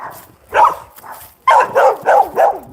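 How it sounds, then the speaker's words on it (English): Several dogs bark in a garden, a short bark followed after a pause by a quick run of four loud, close barks. "We're about to enter a place of many dogs."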